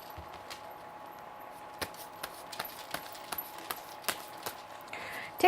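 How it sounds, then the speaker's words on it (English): A deck of tarot cards being shuffled by hand: a run of light, irregular card snaps and taps, close and fairly quiet, with no talking. "Takes a lot of time shuffling the cards."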